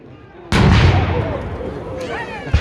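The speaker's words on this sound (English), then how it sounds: "There's the first British fire." A British musket volley bursts out at a Revolutionary War battle reenactment, one loud outdoor crack rolling into a long echoing rumble, followed by a few fainter distant pops.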